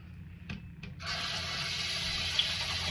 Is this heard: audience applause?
no